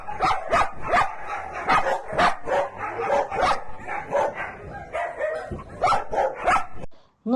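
Yakut dogs in metal-clad shelter enclosures bark and yip repeatedly in a steady run of overlapping calls, fairly close and loud, with no clear talk.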